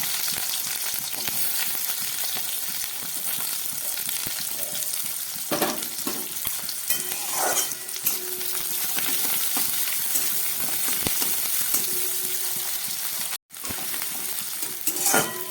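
Sliced onions fry in a pan with black cumin and radhuni, a steady, close, busy sizzle with occasional spatula scrapes and clinks, running almost unbroken apart from one brief dropout.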